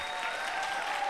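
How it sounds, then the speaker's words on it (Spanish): Congregation at a church service claps in applause, a brief, even burst of many hands at moderate distance with no talk over it. "¿Por qué no le damos un aplauso a ellos?"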